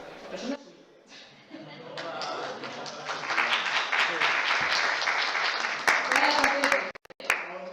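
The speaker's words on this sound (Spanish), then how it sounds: "También un aplauso muy grande a todos los compositores" Applause from the audience at a Blender conference talk builds from scattered claps into steady clapping, with a speaker's voice heard over it.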